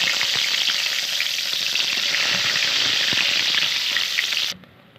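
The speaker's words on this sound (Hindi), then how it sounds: "अब इसमें एक प्याज डाल देंगे।" Onion goes into spices already fried in a pot for restaurant-style degi palak gosht, setting off a loud, dense, continuous frying sizzle that cuts off abruptly near the end, with no voices.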